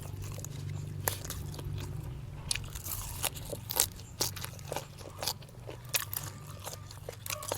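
Crisp, crunchy bites and chewing recur close to the mic over a low steady background hum. The crunches come as irregular sharp bursts while someone eats a spicy Thai-Lao meal with sticky rice.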